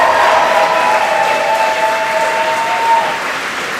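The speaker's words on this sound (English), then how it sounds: "Let's give some applause to our students" Loud, steady applause fills the room as an audience at an MIT graduate student union membership meeting claps for the students, holding at an even level for several seconds with a faint tone running beneath.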